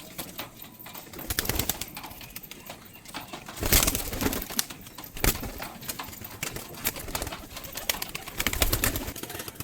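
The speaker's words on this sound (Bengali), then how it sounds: "দেখতে পাচ্ছ এখানে আর একটা পাট্টা পায়রা নিয়ে চলে এসেছি" Pigeons coo and rustle close by in a loft, with scattered wing flaps and sharp clattering bursts over a steady busy background, no one speaking.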